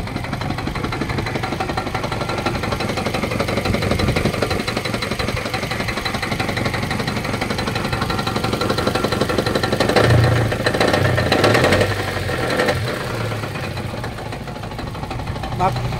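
A car engine idles with a steady rapid knocking clatter from a failing connecting rod throughout, heard up close and continuous, with people talking over it at times.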